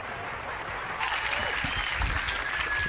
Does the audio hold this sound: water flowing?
no